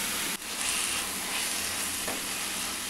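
Tomatoes with red chili powder, turmeric and coriander powder cooking over a low flame, giving a steady soft sizzle with a faint stir or two, no voices.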